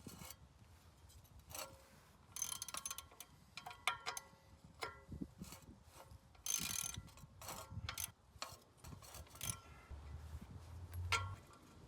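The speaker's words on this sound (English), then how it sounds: "so I just broke them free with a 1/2-inch ratchet." A 1/2-inch ratchet clicking as it breaks loose 13mm fan clutch bolts on a 7.3 Powerstroke, with close, irregular bursts of pawl ticks and clanks of tool handling.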